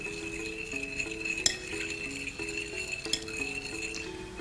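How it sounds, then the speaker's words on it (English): A spoon stirring sugar, fish sauce and lime juice for a fish pickle salad dressing, giving steady close clinks and scrapes against the bowl in a repeating rhythm, with no talking. "So let's start off now with our sugar, the fish sauce, lime juice, and we'll give that a stir."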